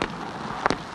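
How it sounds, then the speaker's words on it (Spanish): Fireworks going off at the lighting inauguration of the Rafael Mendoza Castellón stadium in Achumani, Bolivia, two sharp distant bangs a moment apart over a steady crowd-like hiss. "fuegos artificiales que se viven acá en Achumani, Rafael Mendoza Castellón"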